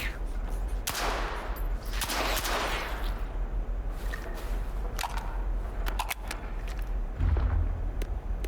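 Hand cannon fired in the video game S.T.A.L.K.E.R. 2: Heart of Chornobyl, several sharp booming shots spaced irregularly over steady background ambience, each followed by a brief echoing decay.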